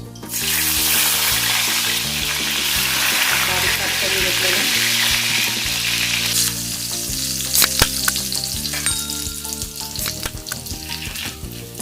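Garlic fries in about two spoons of hot oil for a methi and pigeon-pea bhaji, a loud dense sizzle that later turns crackly with sharp pops and spoon clinks against the pan.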